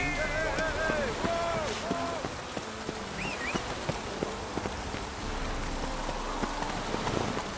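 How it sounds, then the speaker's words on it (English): Steady rain falls in the Witcher 3 video game, a constant hiss of drops on surfaces beneath a gruff spoken voice and scattered tonal game sounds. "Rain doesn't bother you, it seems."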